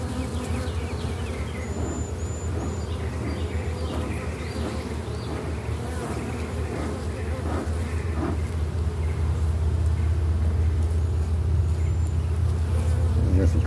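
Dense, steady buzzing of many honeybees around an open hive during a split and queen check, close and continuous, growing slightly louder toward the end with no talking.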